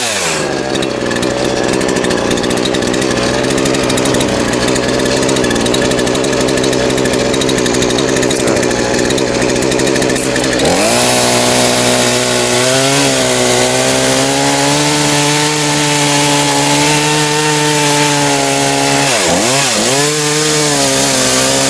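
A chainsaw cuts through a fallen tree lodged in a river, loud and close, the engine screaming steadily at high revs, then dipping and rising in pitch as the chain bogs into the wood.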